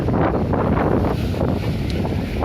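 Strong seaside wind on a beach at Dolzhanskaya buffets the microphone with a constant roaring rush, loud and unbroken throughout.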